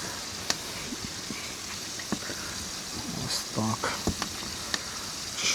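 Flour-coated crucian carp frying in a pan, a steady soft sizzle and crackle with occasional sharp pops, fairly quiet and close, with a few brief knocks.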